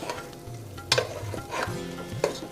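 Pieces of lamb for Rogan Josh fry over slightly raised heat while being stirred, a close sizzle broken by sharp scraping bursts of the spoon against the pan.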